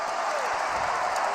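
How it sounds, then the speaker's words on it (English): A basketball arena crowd applauds in a standing ovation for a returning player, a steady wash of clapping and cheering that holds at an even level throughout, with no one speaking over it. "Standing ovation for Mo Williams as he checks in along with Delonte West"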